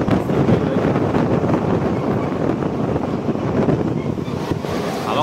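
Strong wind buffets and roars steadily past a moving train on the journey from Mumbai to Akkalkot, loud and continuous with no voices.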